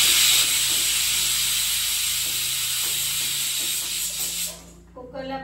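A pressure cooker holding spicy mutton curry lets out a loud, continuous steam hiss after its whistles, which fades away near the end, leaving a quieter tail.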